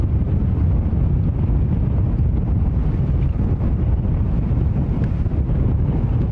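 Steady, loud wind buffets the microphone at JFK airport, a continuous low roar without pause or any talk.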